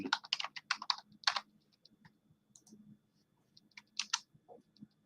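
Bursts of typing on a computer keyboard while entering lineup details for tennis and PGA fantasy contests, close and crisp, in quick clusters with short pauses, alone without talk.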